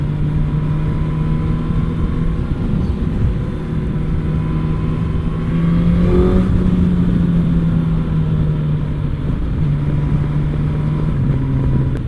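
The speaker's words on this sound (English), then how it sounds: "I do like the sound of this bike though." Motorcycle engine droning steadily while riding uphill in a group, a constant mid-pitched hum with a brief rise in revs near the middle, close and loud alone under wind noise.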